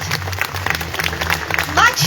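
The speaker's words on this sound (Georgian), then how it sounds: "მე მგონი უნდა ტაში დავნიშნოთ ეს." An audience at a ceremony honouring gold and silver medal school graduates in Khobi, Georgia claps moderately loudly, with a voice speaking briefly over the clapping.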